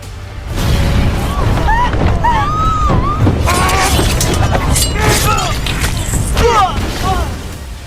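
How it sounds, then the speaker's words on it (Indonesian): Firecrackers thrown by a dancer toward King Sena and royal officials in a film scene burst in a series of loud, close bangs mixed with frantic shouting and screams. "si penari entah bagaimana tiba-tiba melemparkan mercon ke arah Raja Sena dan pejabat kerajaan lainnya."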